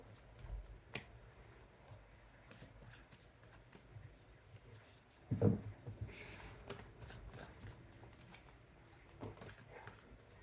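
Tarot cards being shuffled by hand: soft riffling and flicking taps scattered through a quiet room, with one louder burst of shuffling in the middle, faint and close, no speech.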